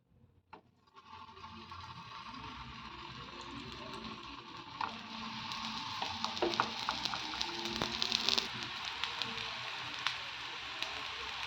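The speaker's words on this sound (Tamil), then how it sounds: "தோசை தவா ஹீட் பண்ணி லைட்டாக ஆயில் சேர்த்து ஆயில் ஹீட் ஆன பின்னாடி நம்ம அதை எடுத்து போட்டுக்கலாம்." Sweet potato momos fry in hot oil on a dosa tawa, a steady close sizzle that swells and thickens as it goes, dotted with small crackles and pops.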